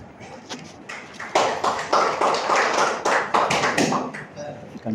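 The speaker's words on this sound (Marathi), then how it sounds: "जोरदार टाळ्या" Loud, dense clapping from an audience at a felicitation during an inauguration ceremony in an auditorium. It swells after a quiet first second, holds strong and steady, then thins toward the end.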